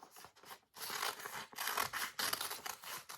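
Scissors snip through paper in quick close bursts while a heart shape is cut out, the blades rasping in several short strokes with brief pauses between them.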